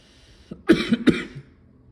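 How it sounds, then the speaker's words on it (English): A person gives a short, close double cough, two sharp hacking bursts about a third of a second apart, in an otherwise quiet room. "It's a cough I've had for like 4 weeks."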